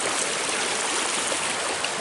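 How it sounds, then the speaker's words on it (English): Water rushes loudly and steadily as someone wades across the shallow river Dilar, a dense broadband splashing and flowing sound close by with no voices. "wading the river."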